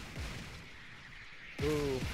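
Sniper gunfire in Fortnite, a burst of loud shot-like blasts and crashes at the start and again near the end, mixed with game effects.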